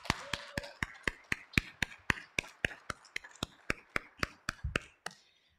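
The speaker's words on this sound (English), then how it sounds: "Let's just take a moment to clap for him." Slow, steady clapping at a reading celebrating a writer in residence, about twenty sharp, evenly spaced claps close by, sounding like one or a few people rather than a full crowd, with no talking over it.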